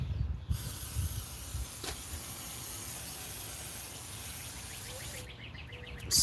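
A steady spray hisses for about five seconds as solvent is misted across a whole car to lift residue from removed vinyl wrap, close and even, with brief quiet at the start and end.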